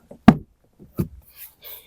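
Plastic trim clips on a BMW X1 E84 front door card popping loose as the panel is pried off, a few sharp isolated pops and knocks, close and fairly loud, with no talk.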